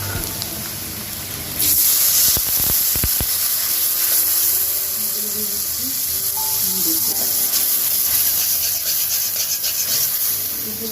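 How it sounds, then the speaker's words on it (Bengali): Turmeric powder hitting hot oil in a pan while sautéing sets off a loud, steady sizzling hiss, with a few scraping stirs near the start and a faint voice speaking beneath. "একটু আমরা একটু ভেজে নিই।"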